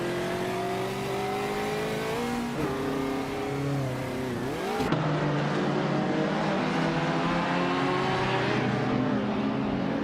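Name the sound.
racing cars on track in a racing video game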